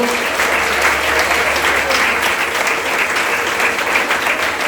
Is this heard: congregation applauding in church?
yes